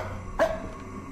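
A single short dog bark, one sharp yap standing out briefly against a quiet room background.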